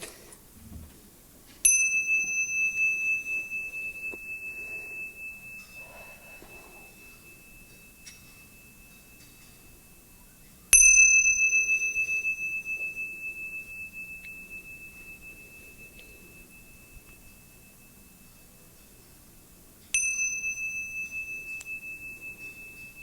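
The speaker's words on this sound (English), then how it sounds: "your job is just to listen until you can't hear the bell anymore" A meditation bell is struck three times at roughly ten-second intervals. Each clear, sustained tone slowly decays into near silence before the next strike.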